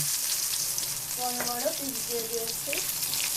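Eggplant pieces sizzle steadily in hot oil, a continuous close frying hiss; a soft voice murmurs briefly in the middle.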